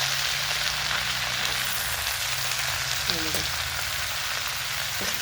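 Spring onion greens frying in hot oil in a home kitchen, a steady close sizzle that holds its level throughout, with a couple of faint clinks partway and no speech.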